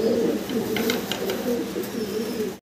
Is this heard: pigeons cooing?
yes